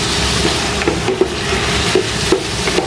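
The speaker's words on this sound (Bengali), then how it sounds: "এরকমভাবে এনে শাকটা ভাজি করে নামাবো" Leafy greens frying in oil with lightly browned garlic, a steady broadband sizzle with a few soft stirring knocks of a spatula against the pan, close and moderately loud with no talking.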